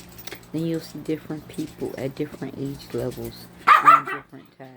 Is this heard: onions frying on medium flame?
no